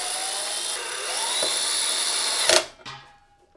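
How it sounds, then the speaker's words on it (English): A power drill drives a screw into a Ktaxon 12U rack during assembly, a steady close high whine that stops abruptly, followed by a short second burst and a clatter. "I can just start drilling."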